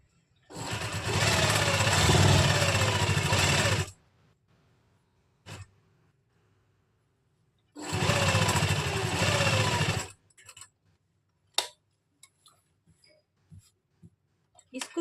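An electric sewing machine stitches a kameez lining in two loud, steady runs of about three seconds each, separated by quiet, followed by scattered clicks and small handling knocks near the machine.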